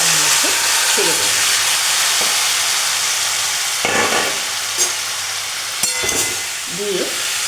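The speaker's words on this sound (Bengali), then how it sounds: "এরপর এই শুকনো লঙ্কাটা ফোড়ন দেওয়ার পর এই মাখানো কচুরলতিটা এটা আমি তার মধ্যে ছেড়ে দেব" Taro stolons, coated in seasoning, sizzle in hot oil tempered with dried red chilli: a loud, steady frying hiss with scattered clinks and scrapes of stirring.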